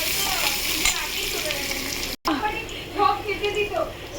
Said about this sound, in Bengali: পেঁয়াজ দিয়ে দিলাম। পেঁয়াজটা ভাজা ভাজা করে ফিরছি।